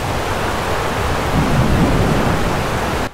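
Steady, dense roar of heavy rain with a low rumble of thunder swelling midway, continuous and close, cutting off abruptly at the end.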